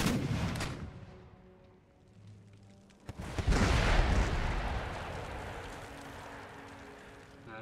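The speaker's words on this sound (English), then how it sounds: "Put artillery aim down the breach." Artillery battery in Empire: Total War firing at a breach in a fortress wall, an early sharp report followed by a heavy deep boom that rolls on and fades slowly.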